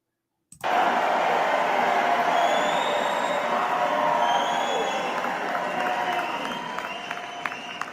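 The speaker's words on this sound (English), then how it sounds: "This is the crowd outside." A large crowd gathered outside a full arena roars with steady cheering and applause, a dense continuous wash of voices and clapping that starts abruptly and holds loud throughout, with occasional sharper claps near the end.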